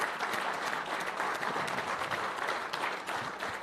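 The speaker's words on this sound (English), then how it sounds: "Please, let's clap for our president." An audience at a public lecture applauds in a dense, sustained burst of many hands clapping, heard at a moderate distance throughout with no speech.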